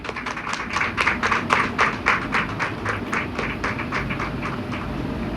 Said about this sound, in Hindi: उनके और समस्त रापोल परिवार के लिए जोरदार तालियां हो जाए।